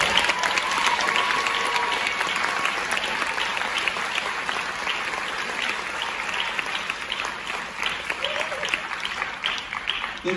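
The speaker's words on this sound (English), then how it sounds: "So can we give a round of applause?" Concert audience at a school band spring concert applauds for the ensemble, sustained crowd clapping filling the hall at an even level from start to finish, with occasional cheers mixed in.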